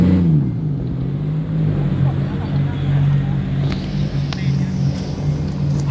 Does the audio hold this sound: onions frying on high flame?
no